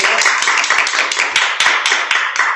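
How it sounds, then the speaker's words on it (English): Workshop audience applauding the instructor after a neck sports massage Tuina session, a close, steady patter of hand claps lasting a few seconds with no talk over it. "Give Michael a round of applause."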